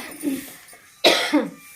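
Two short coughs from a person in a village kitchen, the first softer and the second a sharp, loud bark about a second later, close to the mic.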